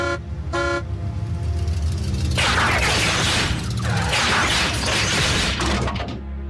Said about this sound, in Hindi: बुरी खबर के लिए एक बार हॉर्न बजाओ